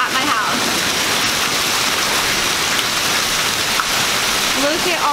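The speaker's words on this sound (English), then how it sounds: "it is hailing so bad that it looks like Christmas at my house." A heavy hailstorm pours down outdoors at a house, a dense, loud and steady hiss of pelting ice that fills the whole stretch with no letup, with faint voices under it.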